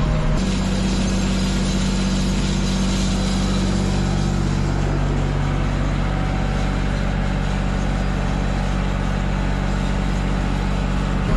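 A small tractor engine runs continuously while chain harrowing a grass field spread with sheep muck, a loud, steady low drone with no talk over it.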